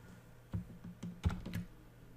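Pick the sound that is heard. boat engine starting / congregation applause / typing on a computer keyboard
typing on a computer keyboard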